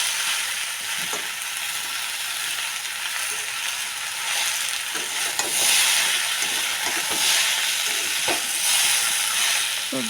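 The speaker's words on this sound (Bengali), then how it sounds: "সবজিটা ভালো করে কষাতে থাকবো, কষিয়ে ভালো করে কষাতে হবে।" Chopped vegetables being sautéed in a pan over high flame, a constant loud sizzling hiss broken by occasional clicks and scrapes of stirring.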